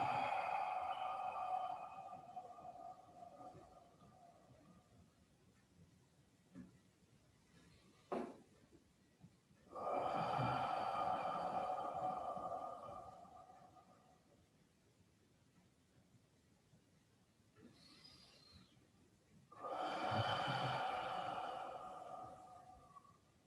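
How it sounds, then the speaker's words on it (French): Slow, deep breaths during a meridian stretching exercise, three long hissing breaths spaced about ten seconds apart, close and soft with quiet stillness between them. "Respiration profonde"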